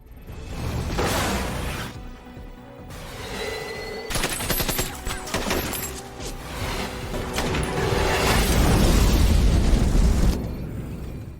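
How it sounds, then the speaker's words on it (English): Battle gunfire and missile explosions from a war film play loud and close: rapid machine-gun bursts and fusillades mixed with heavy booming blasts, forming a dense continuous barrage with brief gaps. "The battle intensifies and bullets cut through the air from both sides."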